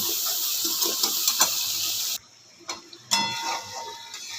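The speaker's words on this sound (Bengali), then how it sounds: "তেলের মধ্যে আমি সর্ষে বাটাটা দিয়ে দিয়েছি এবার আমি একটু ভালো করে কষাবো" Mustard paste stir-fries in hot oil, a bright steady sizzle with a few stirring scrapes, then a sudden drop to near quiet broken by clicks before the sizzle returns.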